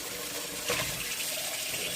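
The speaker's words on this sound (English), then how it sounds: "I'm placing the chicken feet back into the pan of water." Chicken feet being placed back into a pan of water, with a steady, close watery wash and a brief slosh partway through, with no voices.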